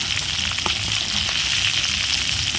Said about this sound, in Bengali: আর একটুখানি ভেজে নিয়ে তুলে নেব।